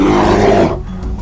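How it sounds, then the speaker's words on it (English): A bear growls in a loud, rough, continuous roar that fades out after about a second, heard alone. "A bear growls."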